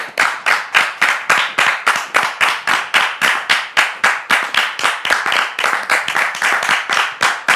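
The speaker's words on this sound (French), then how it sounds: "Sous vos applaudissements." A studio audience at a Christian television talk show greets a guest with steady rhythmic clapping, loud and sustained throughout with an even, rapid beat and no voices over it.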